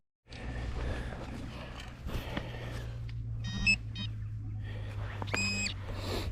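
A metal detector sweeps over a field on a commercial dig near Rome, giving a couple of short, clear electronic beeps, faint against steady outdoor rumble and light rustling.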